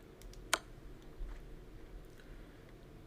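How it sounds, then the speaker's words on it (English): A single crisp computer mouse click sounds close and distinct, followed by soft faint clicks and low room noise. "No, the silent clicking mouse is bad because this mouse is better."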